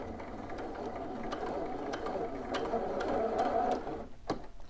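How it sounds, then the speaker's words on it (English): A sewing machine runs a second row of gathering stitches on a bodice, its steady close-up mechanical whirring and ticking going for about four seconds before stopping, with no talk. "And I'm going to do a second row of stitches."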